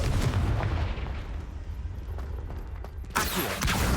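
The Confringo blasting spell fires in Hogwarts Legacy, with booming, crackling bursts over a rumbling background, ending in a sudden loud, bright blast near the end.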